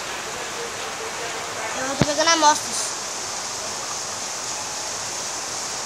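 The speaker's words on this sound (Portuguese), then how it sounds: "Não gosto de pegar essa chuva." Steady rain falls in Minecraft, a constant broadband hiss running through the whole stretch, with a brief burst of speech in the middle.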